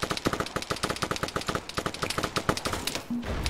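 Rapid gunfire in Arma 3 during a spec ops base defense, with a fast, close train of automatic shots that stops near the end as a brief tone and low rumble follow.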